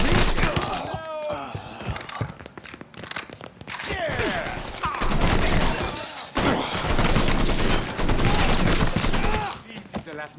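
A Mafia 3 shootout: bursts of gunfire and automatic-weapon fusillades ring out loud and close. Thuds and grunts mix in and overlap almost without a break.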